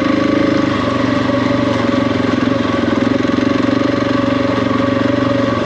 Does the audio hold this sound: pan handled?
no